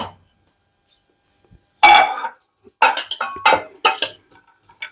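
Mango pulihora rice served onto a plate: after a near-silent stretch, a few distinct clinks and scrapes of a utensil against the dish come in close, short bursts.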